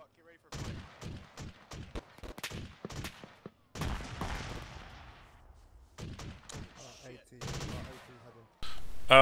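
Rifle and machine-gun fire from a military patrol engaging a tank on a road, bursts of sharp shots in several volleys, loud and close with brief gaps, voices speaking between the bursts.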